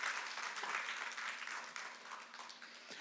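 A church congregation applauds during a worship service, a soft, fairly distant clapping that gradually thins and fades over a low steady hum, with no voices.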